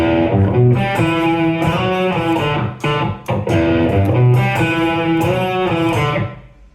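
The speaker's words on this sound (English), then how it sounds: "So the original song, you hear the guitar player hammering on" Distorted electric guitar plays a riff, busy with quick hammered-on slurred notes, steady and loud, with a brief dip midway before fading at the end.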